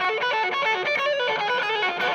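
An electric guitar with overdrive plays a short, sustained run of crunchy, buzzing notes, steady and close with no voices.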